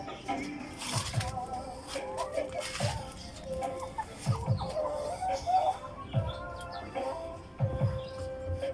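Hens about to lay eggs cluck repeatedly in a farmyard, with low throaty calls and higher cackles close by, and faint chirps in the background.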